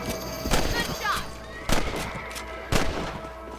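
Rifle shots ring out in the Red Dead Redemption video game, three sharp reports spaced roughly a second apart over a busy background of game sound and music.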